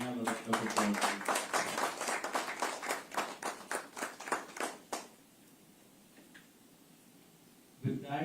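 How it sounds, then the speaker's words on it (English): A round of applause at a government bidding round signing ceremony, crowd clapping dense and steady for about five seconds before fading to near silence, with a faint stir returning at the end. "Can we have a round of applause, please?"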